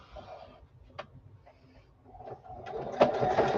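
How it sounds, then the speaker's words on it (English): A sewing machine stitching fabric for a scrappy drawstring bag, short bursts of quick mechanical ticking and whirring that build louder toward the end, close up with faint low rumble underneath. "so now I'm going to stitch here"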